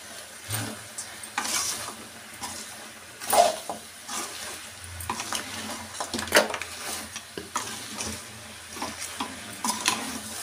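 Chilli powder and coriander powder frying in a pan, a soft steady sizzle broken by intermittent stirring scrapes, fairly close and quiet with no talking.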